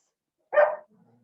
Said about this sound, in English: my dogs are playing upstairs if y'all hear them